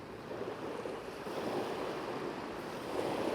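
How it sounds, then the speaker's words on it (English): Ocean waves wash and roll onshore in a steady, soft surf hiss with some wind noise, heard faintly at a distance on a landscape shoot, with no voices. "Just waiting for the waves to be in the right spot"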